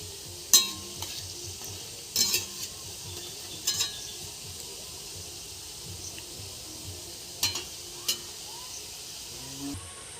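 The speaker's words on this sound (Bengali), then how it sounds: "কাঠি ভাজাগুলোকে মিডিয়াম আঁচে ভেজে নিতে হবে।" Kathi bhaja sticks frying in a wok over medium heat, a steady low sizzle broken by a few sharp scraping stirs and clinks of a utensil against the pan, heard alone without talk.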